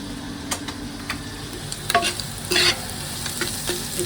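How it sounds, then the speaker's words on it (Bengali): Leafy greens cooking with small puti fish in a pan, with a steady sizzle and intermittent scraping stirs of a utensil, close and fairly loud, no voices. "আর এখন শাকটা রান্না করবো পুঁটি মাছ দিয়ে।"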